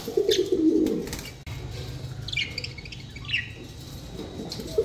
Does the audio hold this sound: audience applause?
no